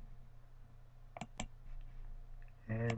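A few crisp computer mouse clicks, two close together then one more, sharp and near over a quiet background hum.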